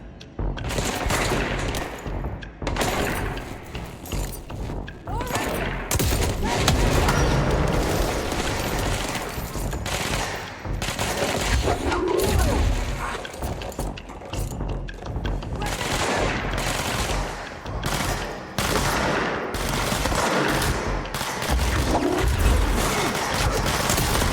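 Dense gunfire fills a battle in the video game Control, with sustained bursts, booms and rattling shots layered continuously over a busy combat soundscape, loud and close throughout.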